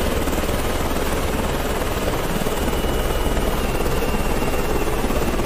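A helicopter in the video game Carrier Command 2 drones close and loud, its rotor thrum and turbine whine continuous and steady throughout, with no talk.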